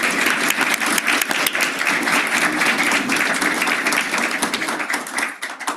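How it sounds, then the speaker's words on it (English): A board meeting audience gives Mr. Greiner a loud, dense round of applause that holds steady for several seconds before starting to thin out at the end. "So I'd like to start by having a round of applause for Mr."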